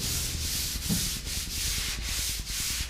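Sandpaper rubs by hand across a plywood board before water-based polyurethane goes on, a continuous close, loud scratchy hiss swelling in rhythmic back-and-forth strokes.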